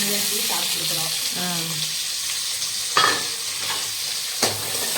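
Onion and curry leaves fry in a pan for a sweet potato stir-fry, giving a continuous close sizzle with two sharp utensil knocks. A voice is briefly heard near the start.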